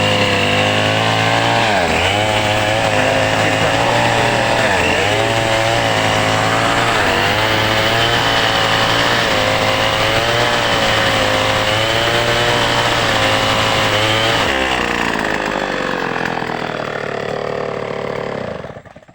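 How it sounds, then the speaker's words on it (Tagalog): A chainsaw runs loud and close for a long stretch, its engine revving and dipping in rhythmic surges as it bites into wood, then dropping to a lower idle before cutting out. "Nagpa-chainsaw kami."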